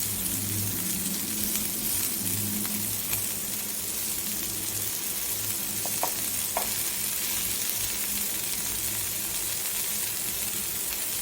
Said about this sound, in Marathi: ह्याला मी रवा तिखट टाकून, रव्यामध्ये तिखट टाकून मी हे फ्राय केले.